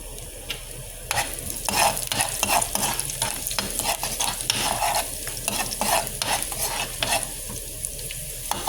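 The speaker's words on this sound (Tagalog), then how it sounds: "umpisahan natin sa pag-iinit ng mantika at paggisa ng ating bawang" Garlic sautéing in hot cooking oil, a continuous close sizzle broken by repeated scraping stirs of a utensil against the pan, with no talking.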